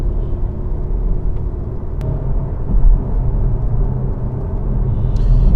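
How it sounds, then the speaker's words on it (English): Steady cabin rumble and road roar inside a Cupra Formentor VZ1 with a 2-litre turbo petrol engine cruising at speed, a continuous loud low drone with no talking. "yeah, this is a bit noisy when you go up to speed, but this is a performance car"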